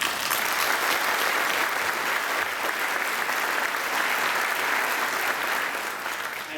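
A crowd applauds steadily at a fire department captain promotion ceremony, many hands clapping in a dense, sustained wash of sound that fades slightly at the end.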